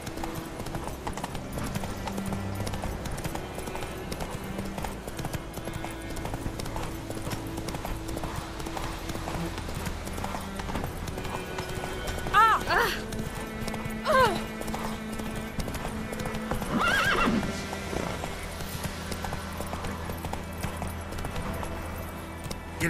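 Horse hooves clip-clop steadily in The Witcher 3, with a couple of short neighs and snorts rising mid-way over a quiet game backdrop, while voices talk intermittently.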